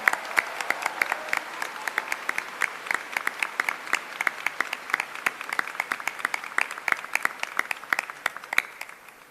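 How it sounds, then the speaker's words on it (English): Convocation audience gives a big round of applause, a steady dense patter of many hands clapping for a nationally ranked team, sustained for several seconds before gradually thinning out. "So let's give a big round of applause for them."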